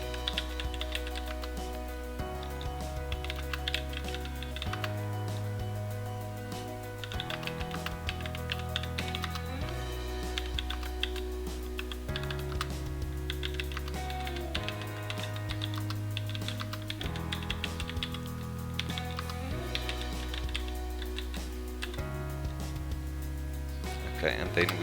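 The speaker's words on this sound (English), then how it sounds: "So just type the word without a spelling mistake." Someone types on a computer keyboard while entering corrections in a word-processing exercise, with rapid, continuous close-up keystroke clicks in irregular bursts throughout.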